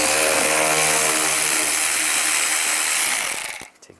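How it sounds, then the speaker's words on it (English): A ratchet fitted with a T20 socket backs screws out of a 2010-2017 Chevrolet Equinox fog light cover, giving a fast, loud, continuous clicking for about three seconds before it stops abruptly. "And then take these screws out. Use a T20 socket."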